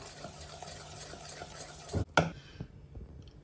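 Powdered sugar is stirred into a buttermilk batter for sweet pancakes, with soft, close scraping and sloshing strokes against the bowl, a sharper clack near the end and then quieter handling.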